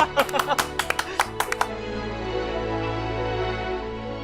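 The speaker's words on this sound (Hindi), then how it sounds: "अरे तालियां बजाओ यार, तालियां" A round of audience clapping at a TV drama gathering, a quick scattered run of claps that fades after about a second and a half, leaving a sustained tonal music bed.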